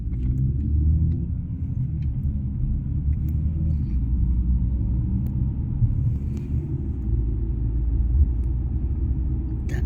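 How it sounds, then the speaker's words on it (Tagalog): Heavy traffic of many vehicles crossing a bridge in Banff, a steady low rumble of passing cars close by without pauses. "Daming sasakyan."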